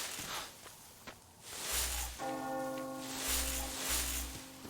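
A bell tolls in the video game Metro Exodus, several deep resonant strikes ringing out with long sustained tones over quiet ambient game sounds and faint footsteps.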